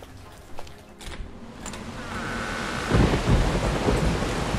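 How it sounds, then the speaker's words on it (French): A violent thunderstorm roars with heavy rain, a low rumble building into a loud crack of thunder midway, and steady downpour filling the background throughout. "Nous n'avons jamais vu une tempête pareille."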